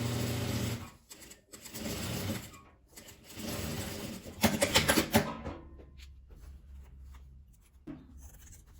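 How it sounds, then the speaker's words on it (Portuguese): A sewing machine stitches fabric scraps into a small key holder in bursts of fast, steady running, stopping and restarting several times, close by with no talking. "E vou costurar."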